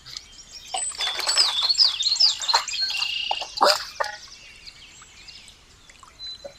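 Chickens, ducks, turkeys and peacocks at morning feeding, with a burst of close chirps and calls and scattered clatters of feed over a few seconds, then quieter calls trailing off.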